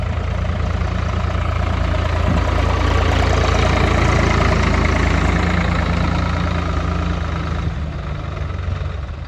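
A heavy diesel tractor engine rumbles loud and steady, idling close by in a field with a constant low drone that eases slightly near the end.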